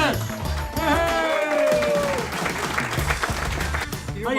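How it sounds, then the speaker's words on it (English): An audience gives a warm round of applause for former Milwaukee Brewers slugger Gorman Thomas of the 1982 American League champion team. The clapping is steady and fairly close, with voices calling out over it. "Let's have an Endter's round of applause for Stormin Gorman Thomas."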